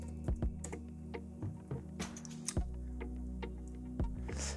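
Keys clatter on a computer keyboard as a short search term is typed, a quick close burst of taps with a brief pause midway.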